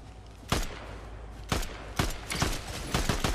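Sniper gunfire in the Fortnite video game, a handful of sharp distant cracks spaced irregularly over a low ambient game background, with no talk.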